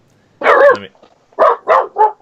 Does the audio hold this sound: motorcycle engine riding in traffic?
no